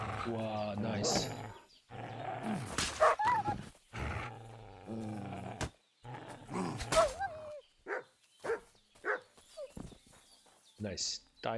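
Dogs barking and growling during a fight in the video game Kingdom Come: Deliverance II, repeated snarling barks amid combat sounds, with a person talking over much of it.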